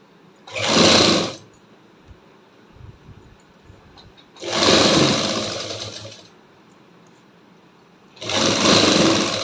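A sewing machine runs basting stitches on a halter neckline lined with buckram, in three separate whirring bursts, the middle one longest, with quiet pauses between.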